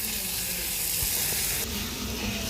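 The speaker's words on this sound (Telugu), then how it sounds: "ఉల్లిపాయ, పచ్చిమిర్చి, ఇంకా టమాటా మొత్తం ఆయిల్లో బాగా మగ్గేంత వరకు అయితే" Onion, green chili and tomato fry in hot oil in a pan for a cashew chicken curry, a dense, steady loud sizzle that continues without pause, close up.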